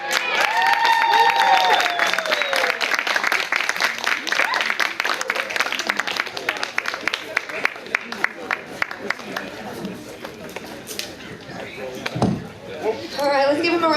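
An audience at a stand-up comedy show in Charlotte claps after a comedy act, a dense patter of many hands that swells then thins out, with a voice talking over the opening seconds.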